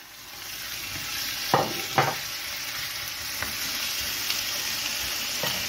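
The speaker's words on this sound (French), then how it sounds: "maintenant, nous allons rajouter nos lamelles d'encornet" Strips of squid fry in a pan with a constant bright sizzle, a couple of sharper spits and clatters as they land near the start and a few lighter taps later, no one talking.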